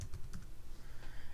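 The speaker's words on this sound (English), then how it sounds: "I'm just going to simply click in it and start typing." Brief, quiet typing on a computer keyboard, a few soft clicking keystrokes over low background noise.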